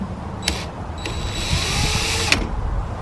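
A power drill whirs steadily for a couple of seconds, close and fairly loud, during a fender install on a Jeep Cherokee, with brief sharp bursts at the start and finish and no talking.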